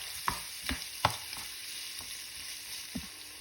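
A spoon taps and scrapes around a pan, stirring tomato paste and liver spread into turkey kaldereta over a faint sizzle, five or six soft irregular knocks with no talk.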